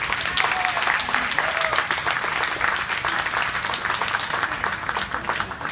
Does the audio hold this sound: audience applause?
yes